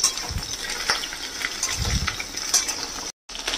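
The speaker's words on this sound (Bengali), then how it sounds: "এটাকে প্রথমে হালকা করে সতে করে নেব।" Cut okra sautés in mustard oil in a kadai, a short burst of close frying hiss broken by soft scraping stirs and a brief moment of silence near the end.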